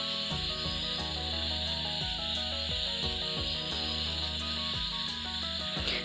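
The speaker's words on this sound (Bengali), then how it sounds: "এবার সজনার পাতাগুলো আমি বেশ কিছু সময় সিদ্ধ করে নেব।" Drumstick leaves boiling in salted water in a pot, giving a steady close hiss and bubbling with faint rhythmic tapping and rubbing throughout.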